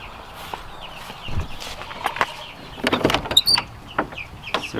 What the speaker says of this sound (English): Get a little nervous when it gets chilly like this when we have new baby chicks in our brooder.